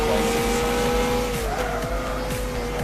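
A race car in Gran Turismo 6 on the PlayStation 3 brakes hard, and its tires squeal in a long rising screech over a steady engine drone. The sound is loud and close and runs without pause.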